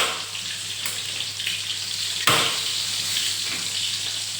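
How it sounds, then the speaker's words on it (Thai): Mae Klong mackerel frying in a pan, a steady close hiss of hot oil with a sudden louder sputter midway, no one speaking. "ทอดแป๊บเดียวก็ได้กินแล้วค่ะปลาทู"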